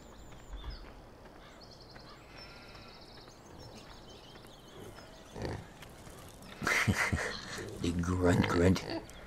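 Pigs grunt on a farm in Farming Simulator 17, with faint intermittent snorts early on and louder, close bursts of grunting and squealing near the end, over quiet background ambience.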